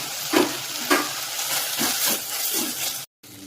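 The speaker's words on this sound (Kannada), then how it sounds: "ಈ ತರಕಾರಿನೆಲ್ಲ ಇವಾಗ ಒಂದು ನಿಮಿಷ ಬೇಯಿಸ್ಕೋಬೇಕು ಚೆನ್ನಾಗಿ" Chopped vegetables and tomato stir-fried in a pan for noodles made from leftover chapati, giving a steady sizzle broken by a few scraping stirs of a spoon, close and moderately loud, with no talking.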